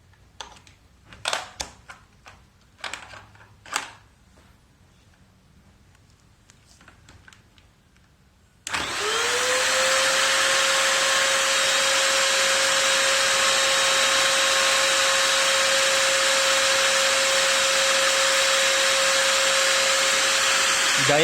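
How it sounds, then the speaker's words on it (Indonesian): Soft clicks and handling noises give way to a vacuum cleaner switching on abruptly and running at a loud, steady roar with a constant high whine for the rest of the clip. "Dan ini untuk mesin vacuum cleaner."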